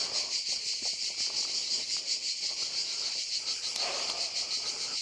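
Cicadas in the trees around Cogoletto keep up a dense, steady high-pitched buzzing drone throughout, with faint rustles and footsteps underneath and no voices.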